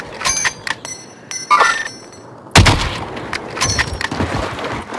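In a trios battle royale video game, a player fires several separate gunshots. The cracks are sharp and loud, spaced irregularly, with the heaviest blast midway through and fainter shots and echoes trailing after.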